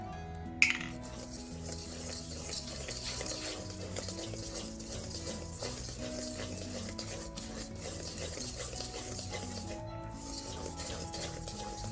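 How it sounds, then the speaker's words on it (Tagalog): A spoon stirs chocolate cake batter mixed with apple cider vinegar in a bowl, a soft, steady scraping and swishing that continues throughout, with an occasional light clink against the bowl. "Just mix well."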